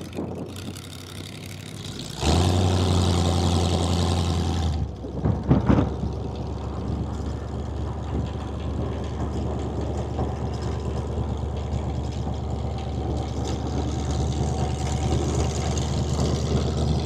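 A 1932 Ford High-Boy Roadster engine rumbles at a low idle, then the revs rise sharply and hold at a loud, droning level. A brief burst of throttle blips follows, and the engine settles into a steady, throaty running note.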